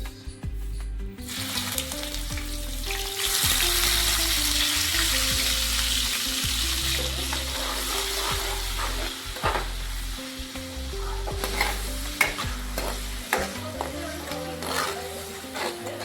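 Sliced onion hitting hot oil for a homemade paneer curry, sizzling loudly and steadily throughout with spoon scrapes and clinks against the pan as it is stirred, no talking.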